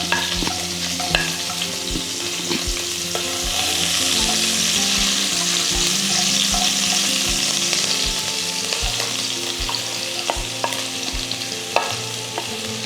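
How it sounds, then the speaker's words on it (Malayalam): Ginger and garlic sauté in oil rendered from pork, sizzling and crackling steadily at close range with occasional stirring clatter and no talk. "ആ എണ്ണയിലോട്ട് തന്നെ നമുക്ക് ഈ ഇഞ്ചി, വെളുത്തുള്ളി ഒക്കെ ഒന്ന് ഇട്ട് വാട്ടി എടുക്കാം."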